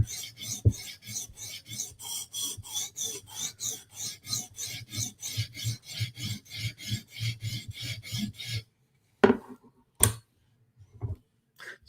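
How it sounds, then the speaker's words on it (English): A 10B DLC Aramis PM2 knife is drawn in steady rhythmic strokes across a sharpening stone, a close, dry raspy scraping repeated about twenty times. Then it stops and a few isolated clicks and handling knocks follow. "we're sharpening a 10B DLC Aramis PM2"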